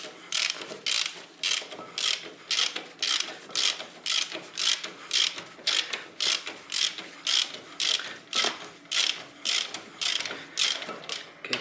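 Ratchet wrench tightening a 19mm bolt on the front brake disc of a Nissan car, with a steady series of rapid clicking strokes repeating in an even rhythm, close and fairly quiet, with no talking.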